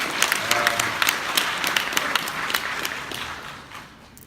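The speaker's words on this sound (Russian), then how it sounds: "Давай аплодисмент, пожалуйста." An audience at an IT conference talk breaks into applause, a dense burst of many hands clapping that gradually fades out over a few seconds.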